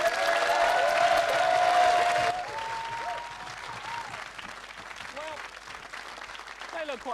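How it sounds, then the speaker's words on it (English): A studio audience at a live late-night show applauds loudly for about two seconds, then the clapping thins and fades under a voice talking over it. "big round of applause for Fenella George."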